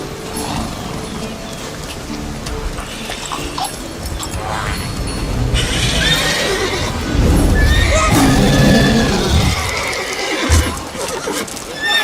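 Roach, the horse from The Witcher 3, neighs loudly in a long whinny over game music and ambience, with hoof clops and a second call near the end.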